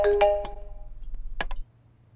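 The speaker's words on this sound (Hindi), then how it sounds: "तुम्हारा फोन रिंग हो रहा है" A mobile phone ringtone plays a short bright chiming melody of several notes, then a softer repeat over a low pulsing hum that cuts off abruptly.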